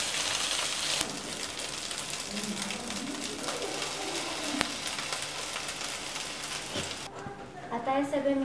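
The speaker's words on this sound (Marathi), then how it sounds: "भात घालून घेऊ." Cooked rice is tipped into a hot frying pan and stirred for lemon rice, making a steady close sizzle with scraping stir sounds throughout, and a voice is briefly heard near the end.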